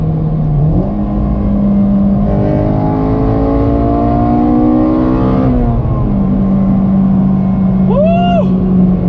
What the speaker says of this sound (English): I can finally hear all the glorious intake noise that my naturally aspirated screaming Honda should